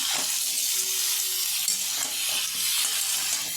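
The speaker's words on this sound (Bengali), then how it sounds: "আমি এখন ডিম আর বেগুনটা দিয়ে দেবো এখন আলুর সাথে আমি ভেজে নেব" Potato with egg and eggplant fries in a pan, a steady, bright sizzle that stays fairly loud and continuous, with faint stirring movements and no voices.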